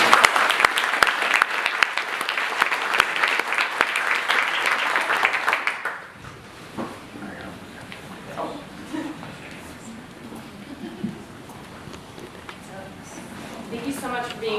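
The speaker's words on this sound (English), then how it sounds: "So round of applause" Audience applause at a Berkeley Forum talk featuring the Librarian of Congress: dense, steady clapping fills the first six seconds, then fades out, leaving a quieter room where a few people talk softly.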